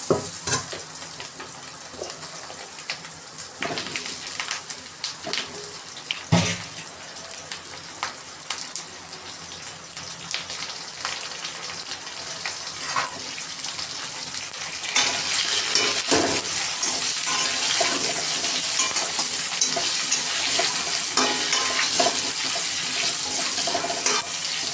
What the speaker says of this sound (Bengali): এখন আলুগুলো দিয়ে একটু ভেজে নেব।